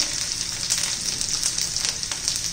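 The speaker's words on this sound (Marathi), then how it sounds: "आता हे पहा तेल गरमच आहे. त्यात लसूण घालायचा आहे भरपूर असा, आलं घालायचं आहे" Garlic and ginger sizzle in hot oil, a steady close, loud crackling fry with small pops, no voices over it.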